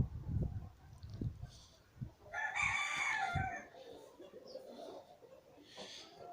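Free-range chickens cluck in a series of low, soft notes close by, while a rooster lets out one clear crow in the middle and a faint second call follows near the end.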